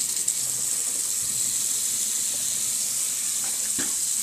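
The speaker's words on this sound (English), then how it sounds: "I use warm water because it makes my teeth feel better instead of cold water." Warm water runs steadily from a bathroom tap during tooth brushing, a constant close hiss of flowing water with no talking over it.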